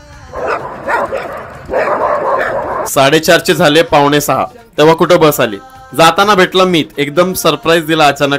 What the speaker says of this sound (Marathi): कुत्रे भुंकतायत कंटिन्यू।